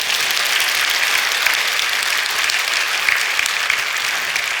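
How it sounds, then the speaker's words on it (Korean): A church congregation claps steadily and loudly throughout, a dense, sustained wash of applause with no voices standing out. "박수 치면 손이 아픈가?"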